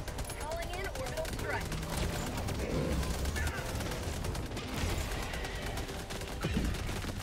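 Gunfire in the co-op shooter Helldivers 2 during a fight with bugs, bursts of rapid shots and crackling blasts over a dense, noisy battle din that runs the whole time, with voices talking underneath.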